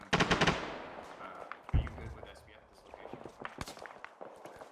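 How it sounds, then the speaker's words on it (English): Gunfire in the military shooter Arma 3 comes from a long distance as a rapid burst of shots followed by scattered single cracks and booms, with rustling and movement sounds and some talk close by. "Taking long distance fire from the north"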